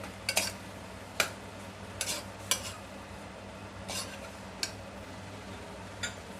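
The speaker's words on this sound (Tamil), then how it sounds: "இந்த அளவு கொத்தமல்லி, இந்த அளவு புதினா, இதையும் சேர்த்து நல்லா வதக்கிக்கலாம்." Mint and coriander are sautéed in a pan for coconut milk rice. A quiet background sizzle is broken by several sharp scrapes and taps of a spoon stirring against the pan.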